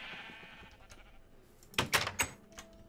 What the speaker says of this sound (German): Da drüben, die bekommen kein Futter, weil das sind schon viel zu viele Schafe.